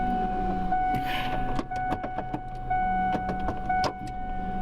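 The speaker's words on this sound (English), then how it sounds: "Every time I shift, I have a clunk in my drivetrain." A car drivetrain clunks while gears are shifted, giving a run of sharp knocks and clicks over a steady tonal whine and hum.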